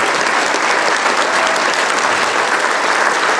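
Audience at a business talk clapping together, a dense, loud, even burst of applause that fills the room throughout.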